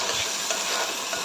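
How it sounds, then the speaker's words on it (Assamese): Rice and lentils fry and get stirred in a pan for a vegetable khichdi, giving a steady close sizzle with soft scraping stirs throughout, no voices. "এনেদৰে চাউলখিনি আৰু দালিখিনি ইয়াত দি দিছোঁ মই আৰু এইখিনিও এতিয়া ভালদৰে অকণমান সময় ভাজি লওঁ"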